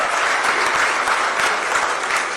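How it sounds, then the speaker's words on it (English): An audience applauds His Excellency John Dramani Mahama, dense continuous clapping from a large crowd, loud and steady throughout. "Ladies and gentlemen, a round of applause for His Excellency John Dramani Mahama."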